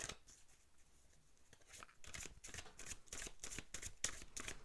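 Tarot cards being shuffled by hand give a run of quick, crisp riffling bursts that grow denser and louder after a quieter start, heard close and alone without talk.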